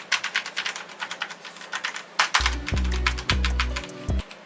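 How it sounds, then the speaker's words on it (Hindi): Rapid clacking keystrokes from a mechanical keyboard with red switches, close and crisp, with a steady typing rhythm while a low tone hums underneath in the second half. "मेरे पास जो कीबोर्ड है ना, ये रेड स्विचेस में आता है। इसकी जो साउंड है वो मैं आपको सुना देता हूं।"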